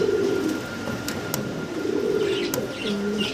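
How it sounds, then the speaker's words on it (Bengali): A pair of Spanish homer pigeons coos in low, soft, rolling phrases that repeat over steady background noise, with a few faint chirps and clicks. "ভিডিও স্ক্রিনে আমরা খুব সুন্দর একজোড়া কবুতর দেখতে পারতেছি"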